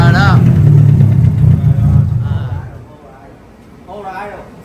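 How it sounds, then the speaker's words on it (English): Nissan S13 with an S15 clone turbo engine cranking and catching, then revving in a loud low rumble for about two seconds before dropping back; people talk close by over the engine. "Okay, let's start up."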